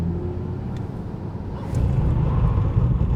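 An Audi e-tron GT on winter tires, out in cold weather, brakes hard from 100 km/h, giving a steady broadband road and wind rumble that swells partway through, with no voices.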